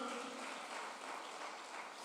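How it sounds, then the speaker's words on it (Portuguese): A church congregation claps together in a soft, distant wash of applause, quiet and continuous with a faint low hum beneath it. "As palmas para ele"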